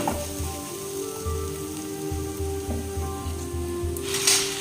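Deboned lote fish goes into a frying spice mix of cumin and coriander powder, giving an even close sizzle over a low pulsing hum, with a brief louder crackle near the end.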